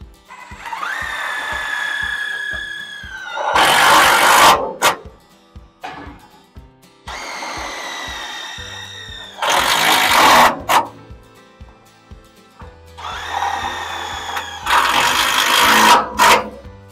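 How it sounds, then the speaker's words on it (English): A power drill drives self-tapping screws into a Jumping Jack propane rack in three separate runs. Each run starts with a rising motor whine and ends in a loud, gritty burst as the screw bites and seats. There are short pauses between runs. "You're just gonna sink that self-tapper in"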